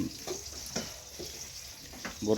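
Long beans frying in a pan in a home kitchen, with a soft steady sizzle broken by periodic stirring scrapes, fairly quiet and close.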